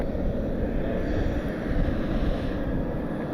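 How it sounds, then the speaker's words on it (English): A Pilatus PC-12 turboprop rumbles at Cleveland airport, a steady broad engine and propeller roar mixed with wind noise, fairly loud and constant. "A little more prop action today. A Pilatus PC-12."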